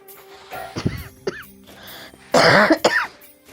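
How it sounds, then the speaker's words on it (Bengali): Several harsh coughs and throat-clearing bursts from a person with a cold, close by, scattered across a few seconds, with a loud rough cough cluster near the end. No talking. "একটু ঠান্ডাও লেগেছে তার জন্য কাশি হচ্ছে"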